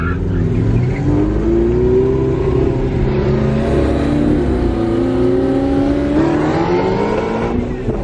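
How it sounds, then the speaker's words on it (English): A Ferrari 488 GTB accelerates hard on a run, its engine note rising steadily and staying loud and close throughout, with only a slight dip near the end. "Pete got a few runs in the Ferrari."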